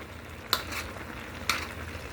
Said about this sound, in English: Stir it around a bit.